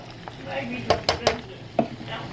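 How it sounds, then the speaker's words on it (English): Meat sauce for bison spaghetti stirred in a pan, a few sharp spoon clinks and scrapes over a low background, quiet and close. "we're going to stir this together"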